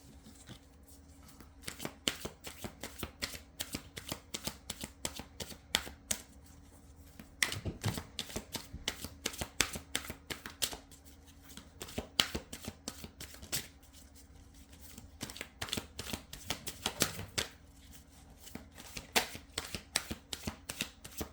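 A deck of cards is shuffled again and again, with quick riffling flutters coming in rapid rhythmic bursts, close and fairly quiet, and no voices.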